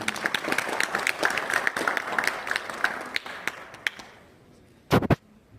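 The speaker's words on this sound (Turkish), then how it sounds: "kıymetli il müftümüz Hasan Çınar hocamıza kuvvetli bir alkış istirham ediyorum." An audience at a poetry recitation event claps in a sustained burst that fades out. A few loud separate claps follow at the end.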